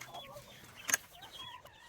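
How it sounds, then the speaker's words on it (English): Soft, low clucks and chatter from a chicken flock with a rooster in a netted pen and coop yard, faint and close, with a brief sharper squawk midway. "Having a friendly rooster helps, and a friendly flock."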